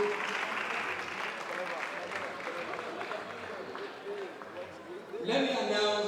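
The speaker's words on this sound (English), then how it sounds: "If you believe that, please clap for Asiwaju Bola Ahmed Tinubu." An auditorium audience at a youth orientation day event in Lagos claps steadily, a broad crowd applause running throughout, with a brighter swell near the end and a voice speaking over it.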